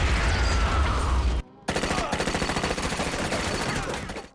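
Automatic gunfire in the Scarface staircase shootout with Tony Montana firing from the top of the stairs: loud rapid bursts of rattling shots, a short gap of near silence, then another sustained volley that fades toward the end.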